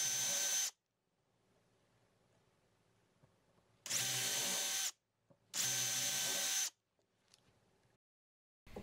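A power drill runs in three short bursts, close and loud, drilling holes into small wooden hearts for home decor, with quiet pauses between bursts.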